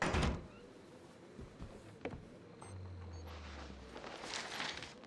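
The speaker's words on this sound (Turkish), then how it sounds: "kapıyı geri kapat." A door closing in the horror video game Outlast 2, heard as a sharp thunk around the two-second mark over quiet ambience, followed by a low sliding rumble, with no talk.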